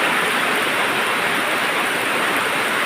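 Steady rain falls as a continuous, loud, even hiss with no breaks and no other sounds.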